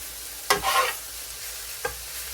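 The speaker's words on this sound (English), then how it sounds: "Now I'm going to go ahead and start these little thin onions here." Thin onions tossed onto a griddle with butter and oil, two distinct bursts of sizzling and scraping about a second apart over a quiet steady background hiss.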